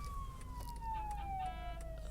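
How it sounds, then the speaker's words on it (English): An ambulance siren passes a car stopped in morning fog, heard as a faint, steady wailing tone that slowly drops in pitch beneath constant road and engine rumble. "There's an ambulance coming."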